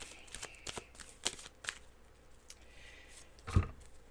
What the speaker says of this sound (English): Let's pull a card for you.